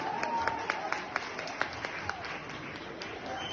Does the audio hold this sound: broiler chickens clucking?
no